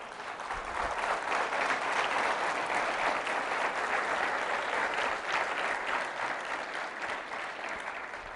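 A church congregation claps together in a continuous, even burst of applause lasting about eight seconds, loud and steady throughout with no speech over it.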